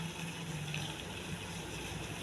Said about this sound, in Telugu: మనం ఏ గ్లాస్తో అయితే తీసుకున్నామో అదే గ్లాస్తో పోయాలి నీళ్ళు